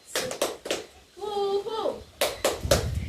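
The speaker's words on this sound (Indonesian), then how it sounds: "Tepuk semangat ya, kakak ragakan dahulu." A leader demonstrates the 'tepuk semangat' spirit clap for young children at an early-childhood session. Sharp rhythmic hand claps are broken up by a drawn-out voiced chant in the middle, then a fresh run of claps.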